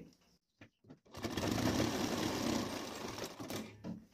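A sewing machine stitches blouse fabric up close: a few short taps, then a sustained run of rapid, even stitching that eases off near the end, with no voices.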